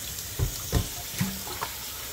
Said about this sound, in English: I'm gonna pour off all the mucky water that come out.